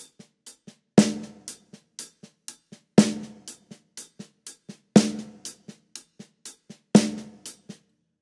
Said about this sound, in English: the right hand is going to come right across the hi-hat onto the snare for the 2 and 4